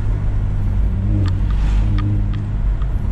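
A 2.0-litre inline-4 car engine idles and revs at a street meet at night, a loud, close, steady low rumble with a few faint sharp blips over it.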